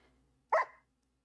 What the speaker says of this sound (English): the 2 dogs that always sound like they're in pain